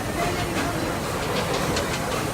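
The Serengeti Express ride train rumbles steadily up close, with a continuous rolling roar, faint rail clatter and a soft hiss as it slows to a stop.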